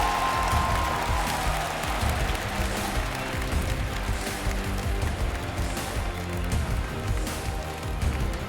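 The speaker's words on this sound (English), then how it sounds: "The crowd finally comes alive." A large arena crowd at the 2019 Call of Duty League esports finals cheers and roars in a steady, loud wash of noise that fills the whole clip. No one speaks over it.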